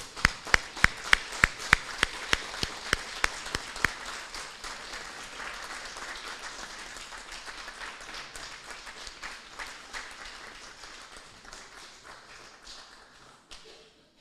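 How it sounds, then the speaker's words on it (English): At a college diploma ceremony, a few sharp, close claps ring out in a quick series before a broad round of audience applause swells and then slowly fades away. "give them a round of applause"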